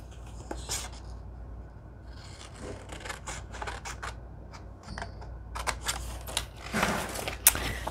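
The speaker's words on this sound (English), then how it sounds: "And we'll cut our little file folder cards out." Scissors snip through paper to cut out small file folder cards for a junk journal, giving quiet, close, irregular crisp cuts and rustling paper with no speech.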